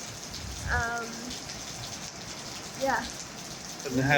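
Steady, heavy rain hisses and patters throughout on a cold day at the Amman Citadel in Jordan, with a few brief spoken voices rising over it.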